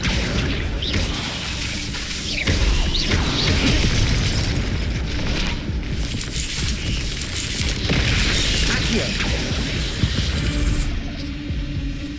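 The Incendio fire spell is cast in Hogwarts Legacy, producing whooshing flame bursts and booming impacts over dense, loud game ambience that continues throughout.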